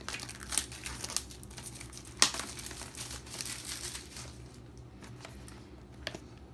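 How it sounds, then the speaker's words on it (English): Plastic wrap being cut and peeled off a boxed charging dock stand, a close crinkling and rustling with sharper tearing bursts, steady throughout and fading a little near the end. "It is wrapped in plastic, so I'm going to go ahead, cut the plastic off of it"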